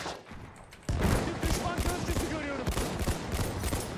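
Rapid bursts of gunfire from the video game Battlefield 1 crackle close and loud in dense, overlapping volleys, with players talking over the shooting.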